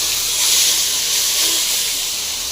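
Ground garlic paste sautéing in hot oil with popped mustard seeds for a tamarind kuzhambu, a loud, steady broadband hiss and sizzle that holds evenly throughout with no talking.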